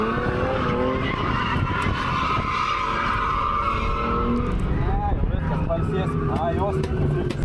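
A car drifting with tires skidding and squealing, a loud sustained screech with engine roar and rising tonal squeals near the end, while people talk over it.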